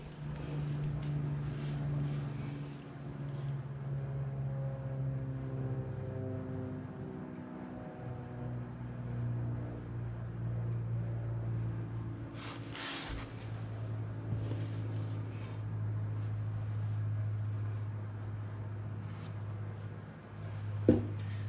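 A 2005 Honda TRX450R ATV engine idles after an oil change, a faint steady low drone that shifts pitch slightly, with a brief clatter partway through.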